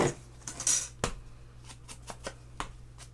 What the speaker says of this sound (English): So I'm going to cut my thumb notch